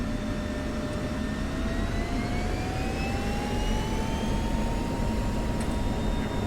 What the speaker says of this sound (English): I am going to do a full burner takeoff.